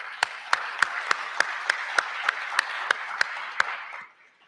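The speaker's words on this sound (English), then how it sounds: "So a big round of applause for those guys." Sparse applause at a scholarship prize-giving ceremony, about a dozen distinct, evenly spaced claps that fade out near the end.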